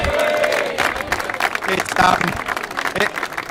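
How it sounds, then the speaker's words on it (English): A crowd at a GAA awards finals night claps for team manager Alan Burke, lively uneven applause with some cheering, loud and close, with voices murmuring underneath. "So a big clap for Alan Burke."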